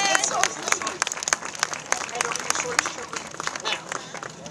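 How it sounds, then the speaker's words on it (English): A small group claps and cheers briefly, scattered handclaps with voices mixed in. "Round of applause again."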